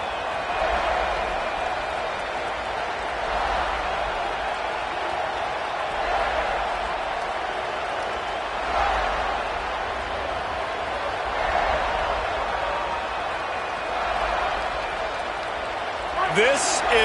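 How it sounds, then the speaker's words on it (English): Home crowd at a college football game roars steadily through a kickoff with no return, a broad sustained cheer swelling in waves beneath a commentator's play-by-play. "This crowd ready to make its presence known."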